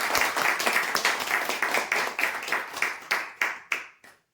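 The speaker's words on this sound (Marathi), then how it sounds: "जोरदार टाळ्या वाजवा" A crowd at a weekly lucky-draw prize announcement claps loudly, starting as a dense burst and thinning to a few separate, decaying claps before stopping.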